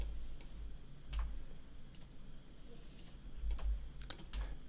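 Sharp computer mouse clicks at irregular intervals, about seven in total, while someone places points along a road in a Unity traffic spline editor, heard close and clear over faint background hiss.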